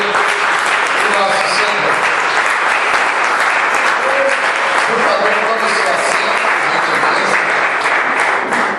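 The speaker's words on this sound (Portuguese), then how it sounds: "Vamos aplaudir o nosso Senhor." A church congregation applauds during an evangelical service, with loud, sustained, dense clapping that fills the whole stretch, a crowd roar beneath it and faint voices mixed in.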